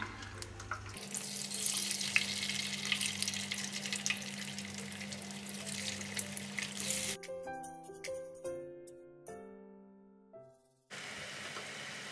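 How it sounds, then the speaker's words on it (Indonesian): Tofu sizzles steadily in hot oil in a wok for several seconds, then the hiss cuts out and a few ringing musical notes follow before the frying returns. "Siapkan wajan. Lalu tahunya digoreng sampai matang."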